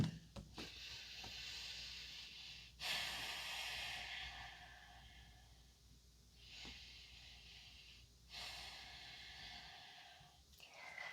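Slow, deep breaths during a yoga pose, each long hissing inhale and exhale close and soft, repeating in a calm rhythm with no talking.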